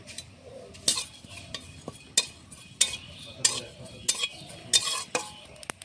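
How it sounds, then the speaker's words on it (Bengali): Bay leaves and cumin seeds dry-roasting in an unoiled pan, with a spatula scraping and tapping the metal in sharp, close strokes about every half second over a faint background hiss; no voices. "শুকনো খোলায় তো কটা তেজপাতা আর জিরে ভেজে নেব।"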